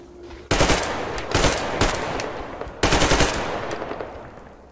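Gunfire in the video game Metro Exodus: several loud, close automatic bursts separated by short gaps, each with rapid, sharp shots over a rumbling background.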